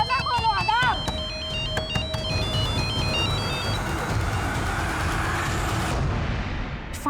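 A phone ringtone plays a bright, stepping electronic melody for a few seconds over a noisy, rumbling background, with a voice briefly heard.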